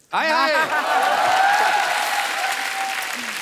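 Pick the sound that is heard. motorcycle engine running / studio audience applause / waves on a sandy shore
studio audience applause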